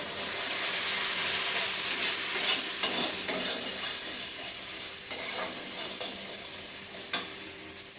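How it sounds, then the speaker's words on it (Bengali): Spices for a Bengali wedding-style egg curry sizzle steadily in a pan with black pepper powder, a continuous frying hiss broken by a few soft stirring scrapes, close and alone with no talk. "মশলা আমার কষানো হয়েছে"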